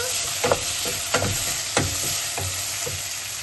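Salt gets mixed into food frying in a pan, the spoon scraping in about five spaced strokes over a constant, fairly loud sizzle heard up close without speech.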